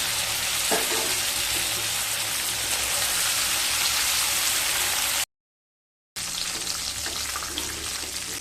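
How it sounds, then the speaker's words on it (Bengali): Prawns fry in mustard oil with a dense, steady sizzle and crackle, broken by a short silent gap before the hiss resumes. "চিংড়ি মাছগুলো ভাজা হয়ে গেছে,"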